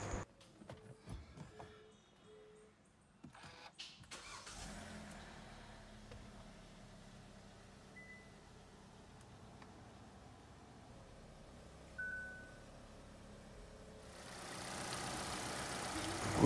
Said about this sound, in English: right now I'm going to start the engine and turn on the AC.